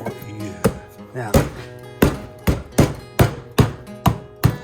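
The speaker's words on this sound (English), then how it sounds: "hammer them all down" Lids being hammered down onto rock tumbler containers, a series of about ten sharp, loud knocks in an uneven rhythm, close by, with brief talk at the start.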